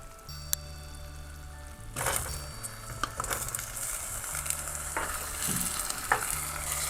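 Tofu sizzles in a hot pan with palm sugar while a utensil scrapes and stirs it in repeated bursts, the frying crackle loud and close between the strokes.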